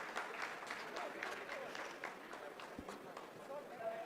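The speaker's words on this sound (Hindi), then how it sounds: "आप इस तालियों के गड़गड़ाहट को सुन सकते हैं" Steady applause from a crowd of scientists during the Chandrayaan-3 lunar landing, a dense patter of clapping that fills the whole moment at moderate distance, with some voices mixed in.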